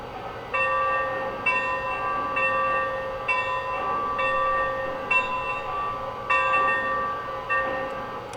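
A Lionel model train bell, hand-rung on a string, strikes in a slow, steady rhythm of about a dozen clear metallic dings, close and moderately loud with no voices.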